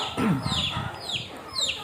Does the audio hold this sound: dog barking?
no